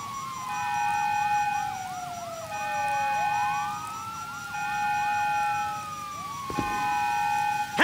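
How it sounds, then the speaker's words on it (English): Police sirens in the video game GTA V wail in repeating rising and falling sweeps, loud and continuous, with a sharp thump near the end. "Sirens! Fuck the cops!"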